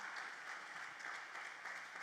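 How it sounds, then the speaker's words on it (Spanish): Applause from a church congregation during an evangelical sermon, a steady wash of many hands clapping at moderate distance, fairly faint and even throughout with no voices. "Aplauda al Señor."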